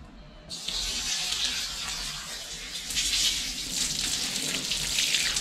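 Water gushes and splashes steadily as a freshly slaughtered goat carcass is rinsed to wash hair off the meat, starting abruptly and running loud and close without pause.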